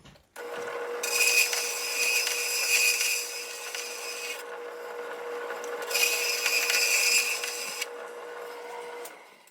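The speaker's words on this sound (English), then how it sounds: "I'm going to get rid of that extra small tube by sawing it off" A small brass tube being hand sawn off, two bursts of steady rasping strokes close by over a constant machine hum, with a quieter pause between them.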